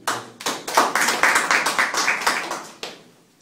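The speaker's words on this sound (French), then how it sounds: "Applaudissez, s'il vous plaît." Audience clapping after a classroom presentation, a short burst of distinct hand claps with a quick rhythm that rises, holds for a few seconds, then trails off into quiet.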